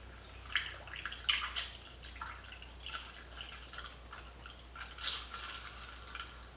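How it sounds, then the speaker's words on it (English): Coolant being topped off in a side-by-side utility vehicle: faint irregular drips and trickles of liquid over a low steady hum, quiet and close, with no talking. "But I'll top off the coolant a little bit right now."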